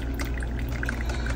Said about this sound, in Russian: по-моему, течет вода. Ага. Как-то жидко слабо течет.